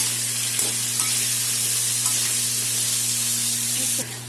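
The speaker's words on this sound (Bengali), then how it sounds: "আলু ভাজা হয়ে গেছে" Potatoes frying in hot oil with cumin, cardamom, cinnamon, cloves, salt and turmeric for a soybean curry, giving a dense, even sizzle close by throughout, with faint stirring taps and a sudden drop in level just before the end.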